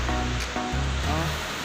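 Seawater washes steadily onto a seashore at high tide, a close, continuous broadband rush of surf with no break and no voices.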